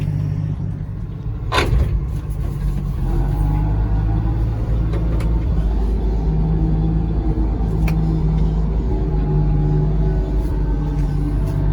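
An old International truck with a worn clutch and failing throttle idles and creeps in reverse, a steady low engine rumble with a sharp knock near the start, close and continuous with no talk.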